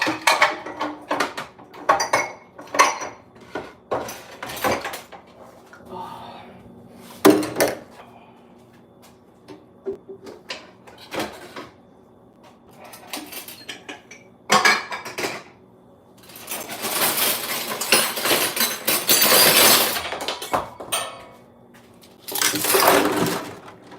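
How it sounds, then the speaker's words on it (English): Silverware and dishes clatter and clink under running water in a sink, with irregular bursts of metallic rattling, scraping and splashing that swell louder toward the end, close and busy with no talk. "Who likes washing silverware?"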